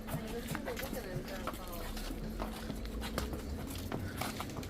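Horse hooves clip-clop in a steady, repeated rhythm during a ride, with people talking over the continuous hoofbeats throughout.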